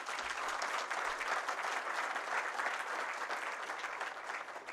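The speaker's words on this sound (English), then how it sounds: "I like that I don't have to prompt you to clap." A large audience at a celebration of Partners In Health in Rwanda applauds steadily, a dense, sustained wash of clapping from a crowd of many hands, with no voices over it.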